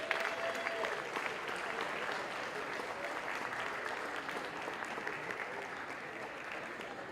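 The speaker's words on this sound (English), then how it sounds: "Let's give them another round of applause." An audience at a school board meeting gives sustained applause for a girls' team honored for reaching the regional quarterfinals, a dense even clatter of clapping that holds steady for about seven seconds with no voices over it.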